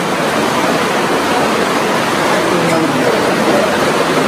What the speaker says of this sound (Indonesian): Ada tuh river, ada sungainya.